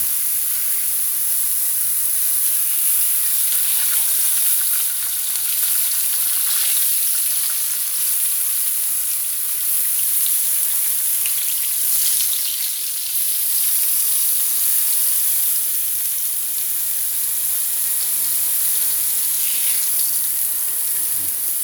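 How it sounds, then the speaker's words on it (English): Braciole meat browning in a hot pan gives a loud, steady sizzle and crackle that runs unbroken throughout, with no voices. "Very quickly, just trying to brown it from both sides, just to make sure it's nice and cooked before I put it in."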